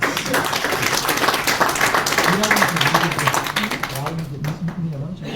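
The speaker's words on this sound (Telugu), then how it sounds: "please give a big round of claps" Audience applause breaks out at a gathering in Khammam, a dense wash of many hands clapping steadily for several seconds under a voice, then thinning out toward the end.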